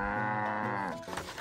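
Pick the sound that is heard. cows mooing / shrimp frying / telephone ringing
cows mooing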